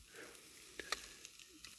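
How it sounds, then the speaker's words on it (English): Hash browns, already cooked through, crisping in a hot pan with a soft, steady sizzle, a few small pops and spatters breaking through. "I'm just frying the outside a little bit, warming them back up and stuff."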